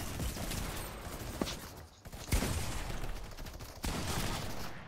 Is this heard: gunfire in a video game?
yes